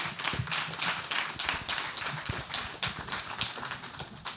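Audience at a French gender-equality event applauding as panel speakers leave the room, a fairly faint, sparse-to-steady patter of individual hand claps with uneven rhythm.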